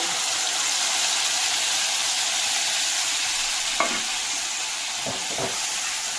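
Soaked garlic fries in a pan with a continuous bright sizzle, close and fairly loud, broken near the end by a few quick spatula scrapes as it is stirred. No talking.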